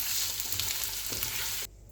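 Diced small onion sizzling loudly in hot oil in a pan for a chicken manchurian, stirred steadily, with a continuous broadband fry that cuts off abruptly near the end.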